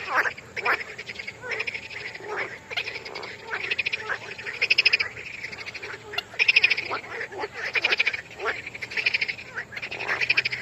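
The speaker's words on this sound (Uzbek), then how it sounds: "Kimlardir yoqtiradi bu baqani ovozini" Frogs croak in a dense, continuous chorus, rhythmic pulsing calls rising and falling in waves near a pond, with no talking.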